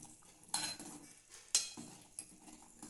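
A utensil stirs curry seasoned with coriander powder in a metal pan, making close, sharp scraping clinks in three or four separate strokes over a soft background sizzle.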